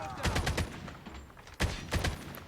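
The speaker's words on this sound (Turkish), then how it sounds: "bak çakacağım mermiyi" Bursts of gunfire in the Call of Duty Mobile shooter game: two rapid clusters of close, punchy shots with a short pause between them, loud against a quiet background.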